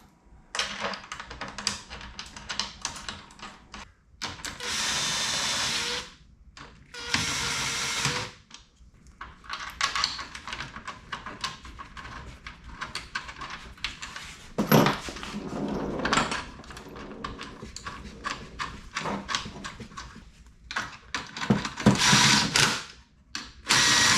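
A hand ratchet tightens the bolts on a Toyota Prius hybrid battery, quick bursts of clicking separated by short pauses, close and fairly loud, with no talk.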